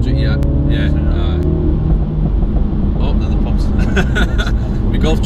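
A Mini F56 JCW automatic accelerates and drops a gear, engine note rising loudly under close, steady conversation inside the car.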